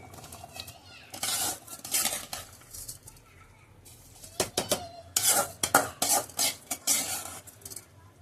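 Rice tipped into a pot of boiling, seasoned water for chicken biryani, then stirred, giving bursts of scraping and clinking against the metal pot with a soft sizzle and bubbling underneath; faint background voice.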